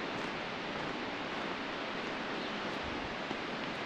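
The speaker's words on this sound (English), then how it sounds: "You can hear water going down there," Water in a forest stream in the Great Smoky Mountains flows below, a steady broadband rushing hiss with no pauses, moderately faint and heard alone.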